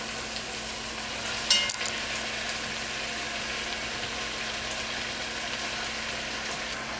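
Chicken for Jamaican brown stew fries in a pot, giving a constant fizzing sizzle with one brief clatter near the start, and no talking.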